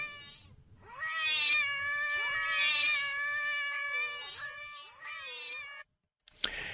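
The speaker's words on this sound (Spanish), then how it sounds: "algún maullido" A cat's meow, sampled into a music composition with echo effects: a long, drawn-out, wavering meow that rises and falls, loud and close, ending in a short gap and a sharp click.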